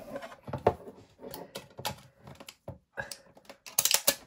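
A Pokemon TCG Celebrations tin is opened at close range, with a run of small clicks, scrapes and crinkly taps in irregular bursts, ending in a sharper rustle of packaging.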